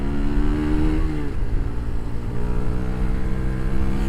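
Engine of a Daelim Roadwin 125 motorcycle pulling back up out of a slow bend, a steady droning note that dips and then climbs as it re-accelerates, loud and close with no talking.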